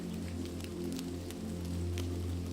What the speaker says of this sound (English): The patter of raindrops on the thatched roof is like a gentle, comforting melody